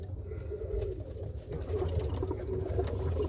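Roller pigeons cooing in a loft, soft low coos repeating steadily against a faint background rumble, with no talk.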